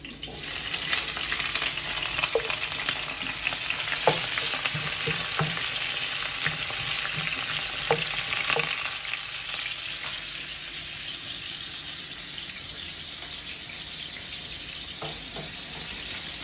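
Garlic and ginger fry in a pan for squid adobo, a steady close sizzle with occasional stirring clicks and scrapes, continuing without break.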